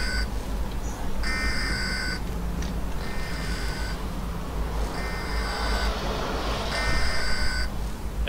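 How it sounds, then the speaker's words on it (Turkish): Repeating electronic alarm in the video game Escape the Backrooms, loud buzzing tones sounding in roughly one-second bursts with short gaps, over a constant low rumbling background. "şu an bir alarm var burada"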